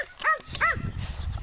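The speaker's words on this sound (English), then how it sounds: "He likes to bark at the goats" A farm dog barks twice at goats, two close, fairly loud barks a short moment apart, followed by outdoor rustle and low background noise.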